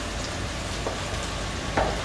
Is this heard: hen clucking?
no